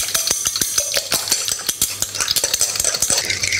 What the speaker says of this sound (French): 4 œufs et je les bats en omelette